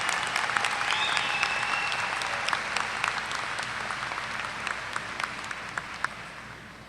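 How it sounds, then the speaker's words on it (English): At a Texas A&M-Corpus Christi spring commencement, the audience applauds the graduates with steady clapping and scattered sharp individual claps, fading gradually over several seconds. "let's give them a round of applause and congratulations once again for everyone."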